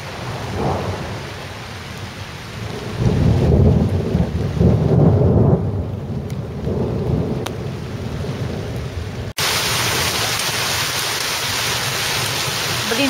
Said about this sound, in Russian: пошел, какой дождь